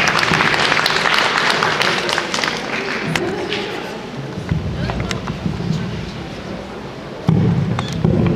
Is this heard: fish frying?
no